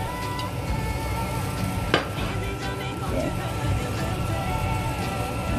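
Leftover tripe, goat meat and kidney stirred in a cooking pot, a steady dense scraping and sizzling texture with one sharp clink of metal, while a voice talks faintly over it.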